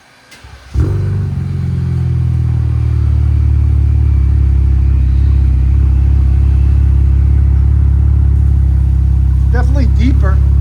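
A 2025 RAM RHO with a 3.0L Hurricane inline-six and Dynomax race bullet exhaust fires into a loud, deep, steady exhaust rumble held close up, with a short voice near the end.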